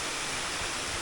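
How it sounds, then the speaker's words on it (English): Abbotts Falls in Olney State Forest pours over a rock edge in a steady, unbroken rush of white water that stays constant and fairly close, with no voices. "flows down all through here, and straight off the edge there, and that's the actual waterfalls."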